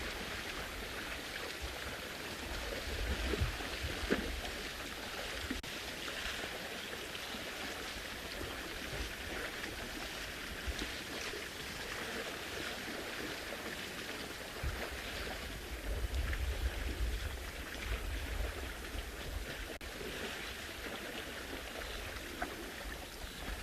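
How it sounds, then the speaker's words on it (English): Buffalo splashing around in water on a sunset safari, heard as a steady wet wash of sloshing and churning with occasional louder splashes, fairly distant and continuous, with no talking. "listen to the sounds of the buffalo splashing around"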